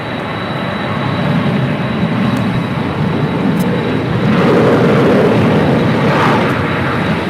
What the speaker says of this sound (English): That is United Airlines Flight 1511 departing to Houston Intercontinental